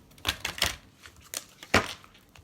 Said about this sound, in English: So I'm just going to give the cards a good shuffle